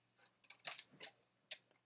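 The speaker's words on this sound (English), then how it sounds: "I also will take a couple of my solid sheets and cut out some shapes" Scissors snip through solid-colour paper to cut out shapes, a few quick close-up crisp cuts in an otherwise quiet room.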